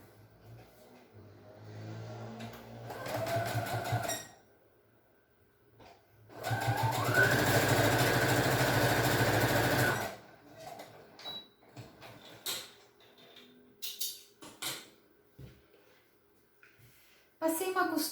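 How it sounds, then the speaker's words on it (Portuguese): A sewing machine stitches three layers of fabric together for an eyeglass case, running in two loud, steady bursts with quieter handling sounds and a voice between them. "E vou passar uma costura juntando as 3 camadas."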